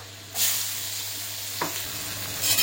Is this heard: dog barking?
no